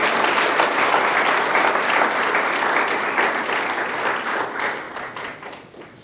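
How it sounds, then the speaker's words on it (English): An audience at a school board meeting gives outstanding students a round of applause, dense steady clapping from many hands that fades toward the end. "Let's have another round of applause to these outstanding students."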